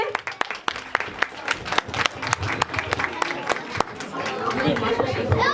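An audience at a Deepavali cultural festival applauds a performer coming on stage, with dense, irregular clapping that swells and continues under crowd chatter and voices.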